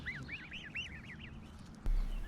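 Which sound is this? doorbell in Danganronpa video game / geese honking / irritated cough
geese honking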